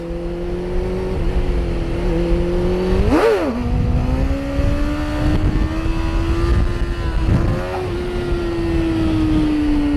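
A motorcycle engine revs hard and loud as the rider lifts into a wheelie, with a sharp pitch rise and dip around the middle, then a steady sustained drone under throttle until the end.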